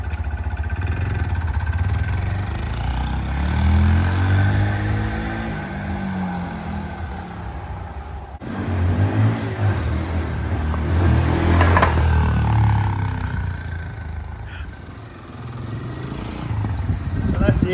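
A CFMOTO Papio SS Aspar Edition motorcycle setting off for a ride round the block, its engine droning and rising and falling in pitch through changing revs, loud and close at first, with a voice talking over it.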